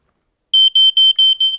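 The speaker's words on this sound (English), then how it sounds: "So the smoke alarm is our friend, it's in the room and it smells the smoke and it makes the noise" A smoke alarm in a room gives five sharp, loud, high-pitched beeps in quick even rhythm after a brief silence.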